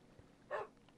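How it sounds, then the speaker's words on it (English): A dog in the Minecraft video game gives one short bark in the middle, standing alone over faint background. "Stupid dog has got me killed!"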